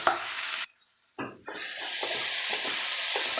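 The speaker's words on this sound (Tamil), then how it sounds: "தக்காளி நல்லா வணக்கி விட்டுக்கலாம்" Tomatoes with ginger-garlic paste sauté in a pan, giving a loud, close, steady sizzle broken by a couple of brief gaps where stirring scrapes through, then settling into continuous frying hiss.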